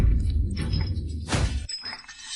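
Something breaks with a loud, sharp shatter about midway, heard against a low rumbling background.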